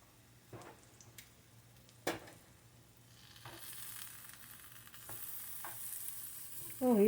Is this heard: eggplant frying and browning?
yes